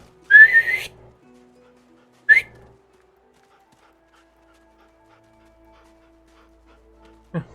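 Two short rising whistles in a fantasy role-playing game, a long one then a brief one, calling a dog, followed by quiet and a faint low thump at the end.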